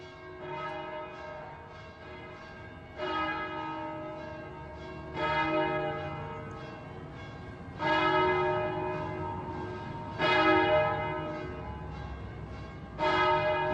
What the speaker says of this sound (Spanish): En este vital centro palmesano resuenan las campanas marcando los días.